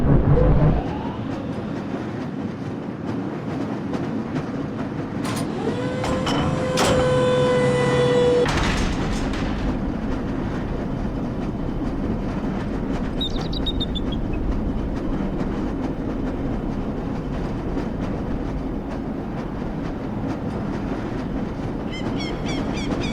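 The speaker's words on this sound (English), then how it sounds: "This lever-controlled train will transport you to a location where your training associates are waiting for you." A lever-controlled tram rolls steadily along its rail in Black Mesa, with a continuous rumble, a short squeal of rail noise and a burst of clattering partway through, then a sustained low drone.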